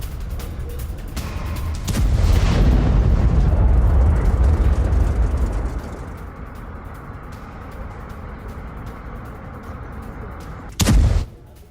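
Blasts from an attack on Baghdad airport, where refueling tankers caught fire. A heavy, booming rumble swells and rolls for several seconds, fades into a lower ongoing roar, and then a second sharp, loud crack follows near the end.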